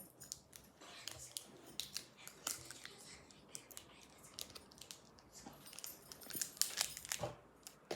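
Hands struggling to open a packet of sour chewing gum ordered from America, with close crinkling, tearing and snipping sounds of the wrapper in irregular bursts, fairly quiet, with faint breathy vocal sounds.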